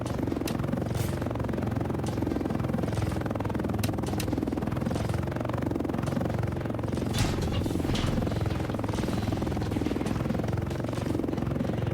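A Superhind attack helicopter hovers in the War Tycoon video game, giving a steady, loud rotor drone with a low, throbbing hum that runs through the whole stretch without a break, joined by a few faint clicks.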